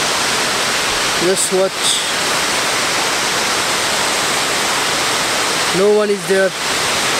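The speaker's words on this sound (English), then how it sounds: "Guys, this is the waterfall. It's massive, it's huge." A massive waterfall roars as steady, broadband noise close by on a trek, with a voice briefly talking over it twice.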